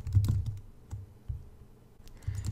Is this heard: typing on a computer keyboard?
yes